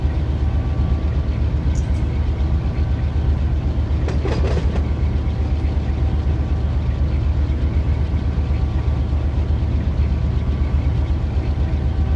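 Long freight train heard from the cab on the Mojave Subdivision, a steady loud rumble of wheels on rail with rhythmic clickety-clack, brief metallic squeals near the middle, and no talk.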